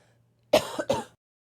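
A single person clears their throat and coughs twice in quick succession, close by, against an otherwise quiet background.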